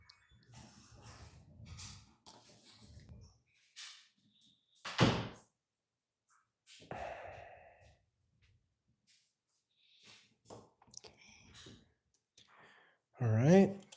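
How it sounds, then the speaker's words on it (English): Indoors, a door is pushed shut with a single solid thud, heard amid quiet talk, breathing and small handling noises. "Just shut the door if you would, please."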